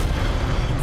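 Incendio fire spell cast in Hogwarts Legacy, heard as a short, loud, dense burst of whooshing flame with a booming low end that fills the whole moment.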